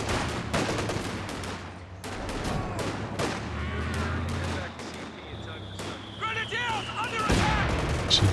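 Artillery and mortar fire in the real-time strategy game Company of Heroes 2, with repeated booming shots and bursts scattered through the battle, mixed with other game noise and a high whistling sweep.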